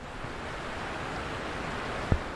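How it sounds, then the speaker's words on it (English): A river runs fast and swollen after heavy weekend rain, a steady broadband rush of water heard alone with one brief bump near the end. "I want to take a second to allow you to listen to how fast the river has been rushing."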